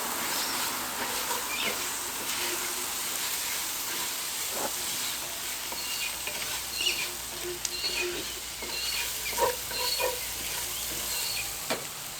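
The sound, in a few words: risotto rice stirred and toasting in oil, camp cooking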